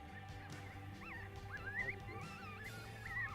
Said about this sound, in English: we have a coyote answering back